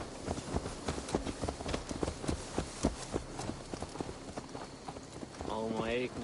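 Horse hooves clip-clop at a steady walking pace in Assassin's Creed Valhalla, close and clear, with in-game voices talking over them and a brief tonal sound near the end.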